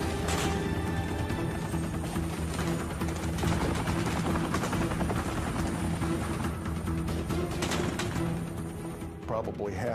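A Sikorsky UH-60 Black Hawk helicopter roars steadily with a thick, droning rotor and engine noise throughout, while a voice talks over it.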